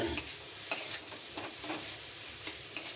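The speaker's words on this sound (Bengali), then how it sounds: "মশলাটার সাথে ভালো করে মিশিয়ে দিচ্ছি।" A spiced teasel gourd fritter mixture is stirred and mixed by hand, giving soft, wet squelching strokes with a few sharper scrapes at irregular intervals, heard up close with no voices.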